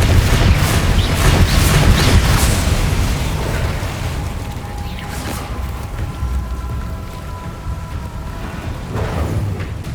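Bombarda and Confringo spells blast in Hogwarts Legacy, a loud, dense roar of overlapping explosions that peaks early and then rumbles on steadily, with sharper bursts at intervals.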